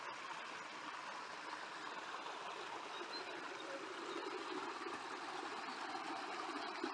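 A small waterfall near Erratzu, Spain, gives off a steady, soft rush of falling water, fairly faint and even throughout with no voices over it.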